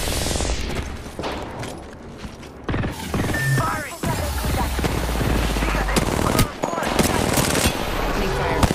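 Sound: gunfire in Apex Legends video game

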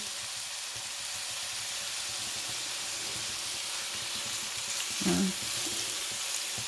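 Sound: meat rolls frying in a pan

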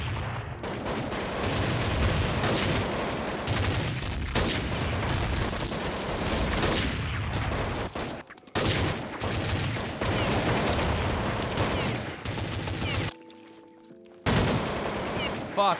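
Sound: Krieg rifle gunfire in Counter-Strike 1.6 video game

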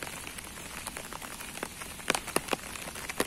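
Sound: heavy rain

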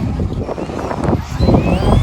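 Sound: wind blowing outdoors at a picnic

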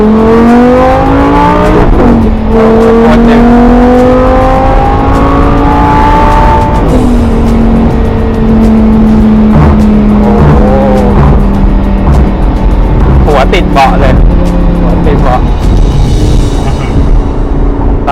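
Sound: Lamborghini Gallardo LP560-4 accelerating hard in sport mode

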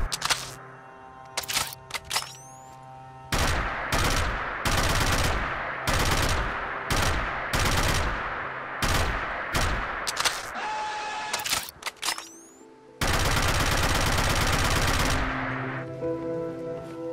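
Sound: AKE Volk rifle firing with heavy recoil in video game Fallout 4

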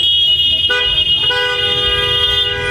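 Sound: car horns honking in a traffic jam

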